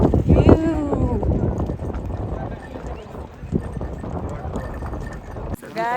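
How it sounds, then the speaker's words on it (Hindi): Hooves of a horse clip-clop steadily along a trail during a ride in Sonmarg, Kashmir, with close rhythmic thuds, wind buffeting the microphone and a rider speaking over the steps. "बिना किसी की हेल्प के मैं हॉर्स राइडिंग कर रही हूँ।"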